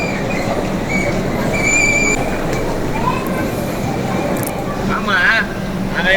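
A train arrives at Chennai's Dr. MGR railway station, a steady close rumble of rolling carriages with faint wheel squeals and voices in the background.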